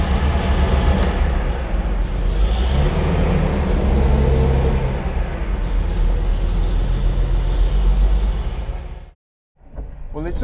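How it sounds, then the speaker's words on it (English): Close engine and road noise from a Mercedes-Benz 300 SL Gullwing on a road test after years of inactivity, a loud steady drone that swells slightly and then cuts out briefly near the end. "road testing a seven-figure car that's been inactive for some years for the first time"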